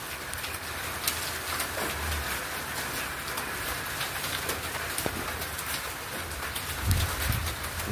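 Heavy rain pours down steadily around a house during a storm, a dense, close hiss with scattered drips and splashes. Birds coo faintly beneath the downpour.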